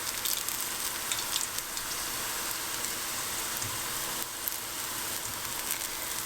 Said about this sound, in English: And then just toss them in the oil using my fork.